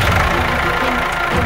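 A tractor engine runs close and loud in a steady, low mechanical rumble with a faint knocking texture and no breaks.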